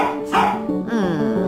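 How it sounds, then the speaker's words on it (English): A dog barks several times up close, sharp loud yaps and a drawn-out whining bark in quick succession, with no speech over it. "A bark heard around the world"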